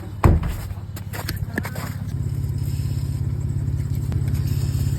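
A Dodge Ram engine with a noisy belt tensioner runs at a steady hum, with a sharp clattering knock near the start and light scraping ticks over the close, continuous drone.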